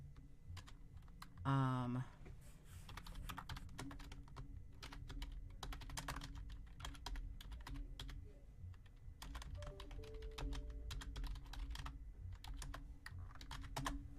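Rapid keyboard typing on a computer as a street address is entered, a steady clatter of keystrokes running throughout, with a brief rising tone near the start and a soft hum under the taps.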